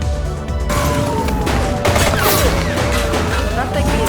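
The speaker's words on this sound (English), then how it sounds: "Open fire!" Rapid bursts of gunfire in The Precinct, a police action video game, crackle loudly and densely through a shootout, with a voice briefly heard over the din.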